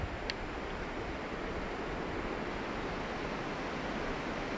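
Wind during a snow storm in France, a steady broadband rushing roar that stays even and continuous throughout, with no voices.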